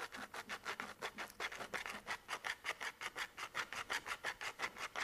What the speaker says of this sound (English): A little riffler saw works good. And I could scratch my knife up in there too.